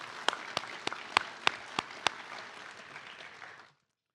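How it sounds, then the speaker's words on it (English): Audience applause for police academy instructors at a graduation ceremony, a steady patter with several sharp, distinct claps standing out near the front before it fades out. "Let's give them a round of applause for their training."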